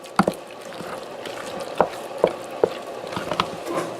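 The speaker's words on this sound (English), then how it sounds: "we're just gonna give this a good old mix" Cooked ground beef mixed with black pepper in a pan, soft scraping stirs punctuated by several sharp utensil knocks at irregular intervals, close and fairly quiet.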